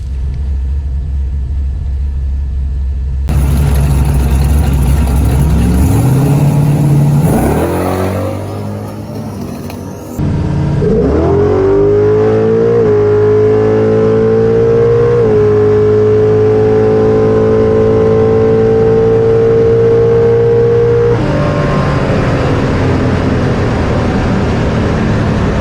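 A Chevy S10 truck with a 400 small block V8 idles with a deep rumble, then revs hard and holds high, steady revs for long stretches, loud and close throughout.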